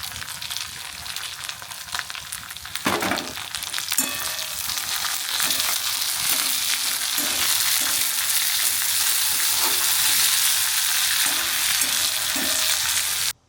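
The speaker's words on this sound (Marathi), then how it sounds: "हे आता थोडंसं भाजून घेऊया." Coriander seeds and spices dry-roasting in a pan, a steady dry sizzle and rustle with rhythmic scraping from stirring, close and continuous.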